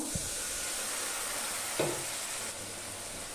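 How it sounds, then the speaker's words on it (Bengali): Onion and garlic fry in a pan of oil for a Bengali cauliflower and fish dish, giving a steady soft sizzle with a couple of faint stirring knocks and no voices. "পেঁয়াজ আর রসুনটাকে একটু গন্ধটা ছাড়িয়ে ভেজে নেব"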